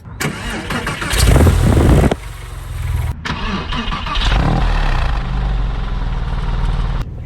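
A Porsche 911 (996) with an aftermarket exhaust cranks and fires with a loud roar, briefly cuts, then catches again and settles into a deep, rumbling idle close by.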